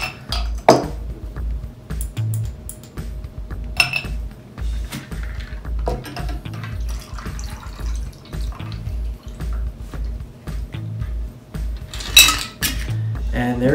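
Novelty ice cubes clink and knock against glasses while cocktails are mixed, scattered light chinks and taps over a steady low hum, fairly close and with no voices.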